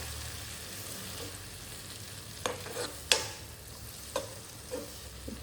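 Prawns fry in a pan over a low flame, with a soft, continuous sizzle broken by a few sharp clicks and scrapes as they are stirred.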